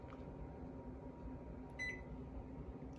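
A microwave oven reheating food hums in a quiet kitchen, a faint steady drone with a short electronic beep near the end.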